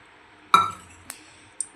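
A metal cooking pot clinks as oil goes in for a drumstick (shevga) curry: one sharp metallic clink, then two lighter taps, close and crisp against a quiet kitchen.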